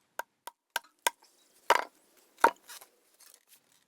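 A combat knife chopping wood: a run of sharp, close, dry knocks, four quick even strikes followed by heavier, more scattered blows and a few faint taps, with no voices.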